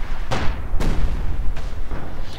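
Su-76 artillery barrage in the video game Company of Heroes 2, several heavy booms landing in quick succession, each with a short rumbling tail, loud and fairly close.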